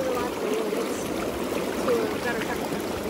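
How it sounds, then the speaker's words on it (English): Steady, dense bubbling and rushing water from the jets of an Intex Simple Spa portable inflatable hot tub, close and continuous, with a faint whistle-like tone running through it. "People probably can't hear us with the bubbles."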